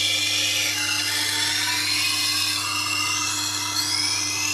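A knife being sharpened on a Tormek T8 grinder, a continuous high whining grind with a steady motor hum underneath, close and loud with no pauses.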